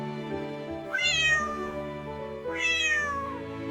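Ginger the cat gives two drawn-out meows about a second and a half apart, close and clear over a soft steady backdrop with no talking.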